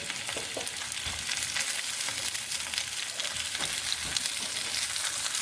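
Dried red chillies and onion sautéing in hot oil for a chammanthi chutney, a steady close sizzle and crackle with occasional soft stirring scrapes, no voices.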